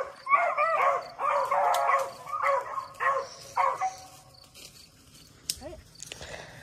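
Dogs outdoors on a spring trail bark in a rapid series of loud, close yaps that thin out after a few seconds, leaving quieter background noise and a brief sharp sound near the end.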